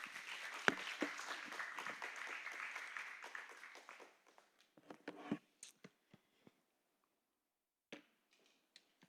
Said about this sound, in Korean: 네, 우리 박수로 환영합시다.